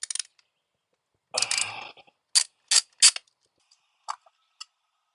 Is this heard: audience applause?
no